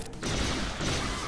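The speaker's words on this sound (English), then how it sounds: "Those Seeker missiles took him out." Seeker missiles strike in Star Wars Galaxy of Heroes, a dense, loud burst of rapid explosive impacts after a short lead-in, crackling and continuous for about a second.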